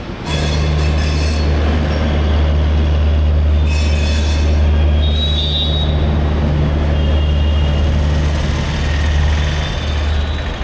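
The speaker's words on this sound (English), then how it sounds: "it is just arriving Jaipur Junction. It has been received into platform number 2." A late passenger train rolls into a platform at Jaipur Junction, with a loud, steady rumble of wheels and a deep engine drone plus brief metallic wheel squeals, heard close for the whole stretch.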